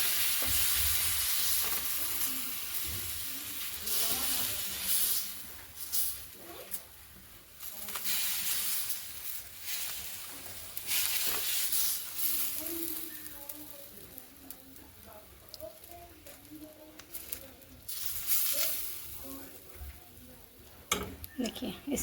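Batter cooking like an omelette on a hot tawa griddle, giving a steady soft sizzle and hiss with occasional scraping, while someone talks over it at intervals.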